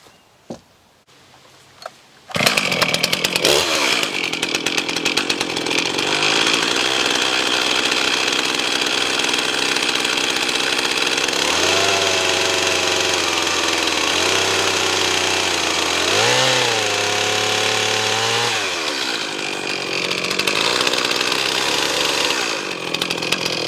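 A chainsaw fitted with a 25-inch bar trims leftover wood slabs into kindling, running loud and close with a steady engine roar after a brief start, pitch dipping and rising as it bites through cuts.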